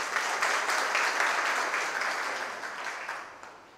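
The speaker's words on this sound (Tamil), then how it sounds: "இந்த கைத்தட்டு தாங்க ஒரு படைப்பாளிக்கு சந்தோஷத்தை தர்றது." An audience at a Tamil pattimandram debate gives a sustained round of applause, with dense, even clapping that holds steady and then slowly fades toward the end, with no voices over it.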